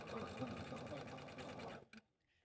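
A sewing machine runs steadily, stitching fabric letter pieces onto the top of a red fabric leaf, then stops abruptly near the end with a brief clunk.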